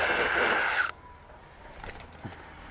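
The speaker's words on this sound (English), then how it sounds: "Now I'll just remove that rivet again" A power drill whines at high speed while drilling out a rivet on a Colorbond metal roof ridge, then stops abruptly after under a second. Faint handling knocks and clicks follow.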